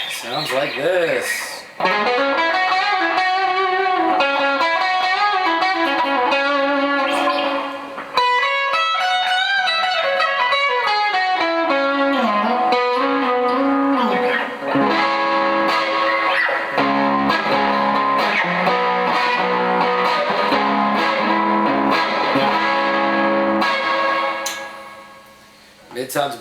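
Twangy electric guitar on its bridge gold foil clone pickup, in a Bobkat, played alone, a run of bright picked notes and chords with a sharp, trebly bite, sustained and fairly loud throughout.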